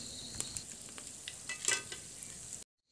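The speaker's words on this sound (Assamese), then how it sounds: "এইফালে খুব ধুনীয়াকৈ চবকেইটা ভাজ খাই গৈছে" Vegetable chops fry in oil in a wide wok in a village kitchen, a steady soft sizzle with a few brief sharper pops, fairly quiet and without voices, stopping abruptly near the end.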